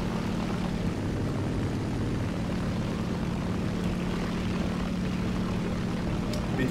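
A propeller warplane engine roars steadily in War Thunder, a loud continuous drone with a low hum that stays close and even throughout, with no voices.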